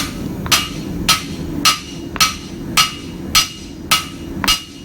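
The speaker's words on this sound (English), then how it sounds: "forging the same area" A hammer strikes a hot chef's knife blade on an anvil in steady forging blows, eight sharp ringing hits spaced about half a second apart, loud and close over low shop rumble.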